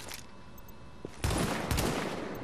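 Light machine gun fire in The Division's Dark Zone starts after a quiet lead-in with a single shot, then breaks into a loud, sustained rattling burst that runs to the end.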